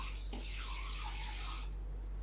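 Water runs steadily from a tap into a bowl while whole wheat pizza dough is being made, a constant close splashing stream that cuts off near the end.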